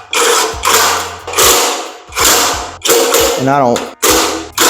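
Bolts being tightened with a power tool during installation of a Genie 3024 garage door opener, loud repeated whirring bursts of about half a second each in a steady rhythm, close by, with a brief spoken word between them.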